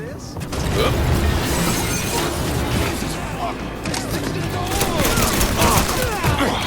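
Gunfire in the Mafia 3 video game, a dense barrage of shots and crashing impacts with mechanical clatter, loud and continuous, partly under voices.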